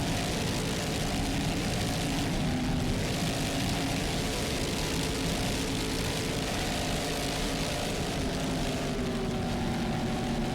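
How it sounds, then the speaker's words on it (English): A racing powerboat powered by 800-horsepower Mercury inboard engines roars continuously at full power, loud and steady throughout, with no pauses or talk. "Mercury powered to 800 horsepower Mercury inboards."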